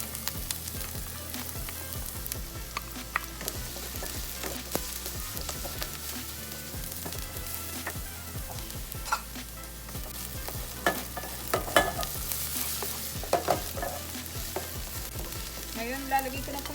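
Onion fries in a pan for a Filipino pork hardinera, with a constant, moderately loud sizzle and scattered clicks and scrapes from stirring.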